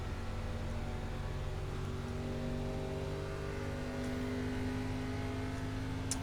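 ARCA Menards Chevrolet Impala race car engine at speed at Texas Motor Speedway, a continuous droning roar held at a steady pitch, slowly rising, loud and close throughout with no speech.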